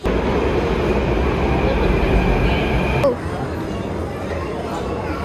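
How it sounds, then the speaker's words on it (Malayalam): Steady broadband rumble of a moving metro train, heard from inside the carriage; the loud roar drops abruptly about three seconds in to a quieter ride noise, with faint murmuring in the background. "സോ ബസ് വെയിറ്റ് ആക്കാണ്ട് ഞങ്ങൾ മെട്രോയിൽ പോകാമെന്ന് വിചാരിച്ചു"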